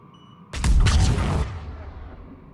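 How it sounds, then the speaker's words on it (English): In Mass Effect 3, a warp power detonates a singularity, setting off a sudden loud explosion that bursts in after half a second, holds for about a second with crackling, then fades into a lingering rumble. "That's a nice explosion if you like use"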